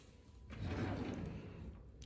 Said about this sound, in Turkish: Çekmeceler açalım annesi.